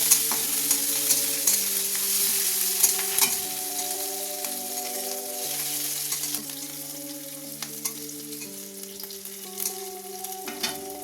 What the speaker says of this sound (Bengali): এবার এটাকে আমি হালকা করে একটুখানি ভাজতে দেবো, হালকা ব্রাউন হবে